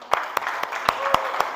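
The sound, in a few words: classroom applause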